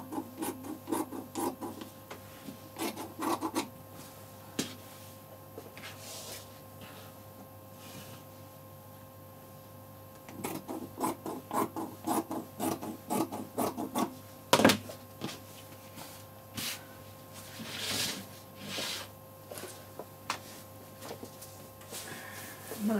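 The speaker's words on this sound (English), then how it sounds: "So the best thing to do is to take the trim off." Trim is worked off the sleeve fabric of a suit jacket, producing quiet, intermittent scratchy rubbing and rasping bursts close by over a low steady background hum.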